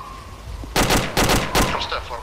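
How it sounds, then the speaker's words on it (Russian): Three sharp, loud gunshots in the video game ArmA 2 crack in quick succession over a quieter background hum, each burst short and punchy. "Это выстрел, значит."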